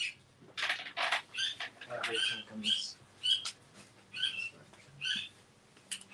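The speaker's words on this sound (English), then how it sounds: "that little bird is tormenting Missy" A small bird chirps and squawks in repeated short, high bursts, fairly close and moderately loud, with brief gaps between calls and some faint low background noise.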